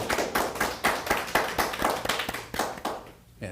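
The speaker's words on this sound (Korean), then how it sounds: "박수로 반갑습니다." Scattered audience applause at an education policy forum, with distinct individual claps in an uneven rhythm that thins out toward the end, heard close and moderately loud.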